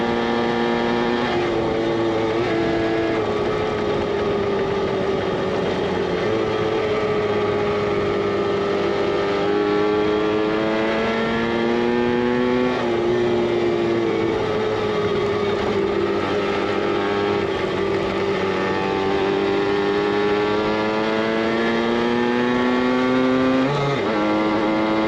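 Yamaha RT100 dirt bike ridden off-road around the Pennask area, its small engine droning steadily with a buzzy, harmonic-rich note that rises and falls as the throttle opens and eases, close and loud throughout with no talking.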